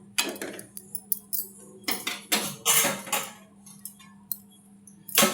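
Spinach is added to a cooking pan already holding chopped onion and tomato, then stirred, giving irregular metallic clinks and clatters of a utensil against the pan, close and fairly loud, in short bursts with brief pauses.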